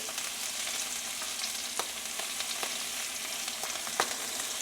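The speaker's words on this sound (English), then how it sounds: "we're going to put it in a skillet, and we're going to sear it on both sides really well" Bone-in pork chops searing in a hot skillet make a constant dense hiss and crackle, close and even, with a few faint pops and ticks scattered through.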